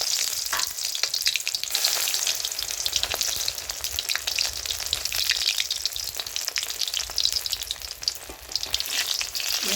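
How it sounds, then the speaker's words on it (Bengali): Taro leaf fritters deep-frying in a generous amount of hot oil give a loud, steady, dense sizzle that crackles and spits without a break for the whole stretch, with no voices. "তেলের পরিমাণটা একটু বেশি দেবেন, কারণ ওটা ছাঁকা তেলে ভাজতে হবে। তেলটা গরম হয়ে গেছে, এইভাবে ছেড়ে দেবো।"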